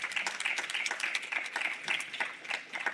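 An audience at a children's protection session claps for a panel, a fairly faint, steady patter of many hands without cheering.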